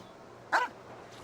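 A single short bark from the realistic-looking dog Pavlov in Genshin Impact, rising briefly above a low steady game ambience with no talk.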